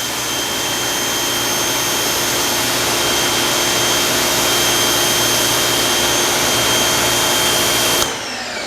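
An Active 2.0 electric pressure washer sprays through a 40-degree nozzle with a loud, steady hiss and motor whine. It runs unbroken for about eight seconds, then cuts off abruptly.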